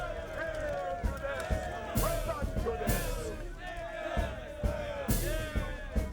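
A crowd cheering and shouting in a biblical-era street scene, a dense babble of many voices with rising whoops and periodic thuds, steady and fairly close throughout.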